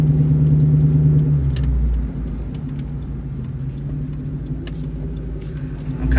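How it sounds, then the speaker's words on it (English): A 2003 Ford Mustang GT New Edge with the 2-valve V8 cruises along, its engine a deep steady rumble from inside the car, with a louder drone easing off after two seconds and small rattles and clicks throughout. "Felt like taking the Mustang out for a little cruise regardless"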